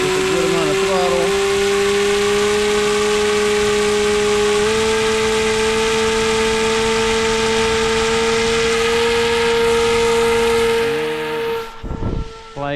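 Electric motor of an RC plane held under strong throttle, a steady, loud, high whine at nearly constant pitch for about eleven seconds before it cuts off abruptly.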